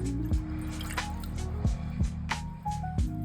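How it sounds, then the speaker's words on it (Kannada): Water poured into a cooking pan to start the filling for sweet potato holige, with close, irregular splashes, drips and small knocks over a few seconds. "ಪ್ಯಾನ್ಗೆ ಸ್ವಲ್ಪ ನೀರು ಹಾಕ್ಕೊಳ್ಳೋಣ"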